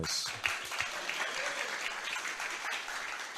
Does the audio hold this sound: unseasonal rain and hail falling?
no